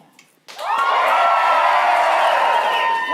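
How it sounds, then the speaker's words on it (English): A theatre audience at a main stage show breaks into a loud, sustained cheer with whoops and shouting, starting abruptly after a brief quiet moment and holding at full volume. "They know in the back that they're not going to come out until they hear a really loud cheer."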